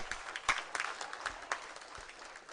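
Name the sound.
applause, hand clapping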